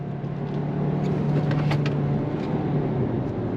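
A 2024 Hyundai Kona N-Line accelerating on throttle, its engine a steady, fairly loud drone with a low hum holding through the whole stretch and no voices over it.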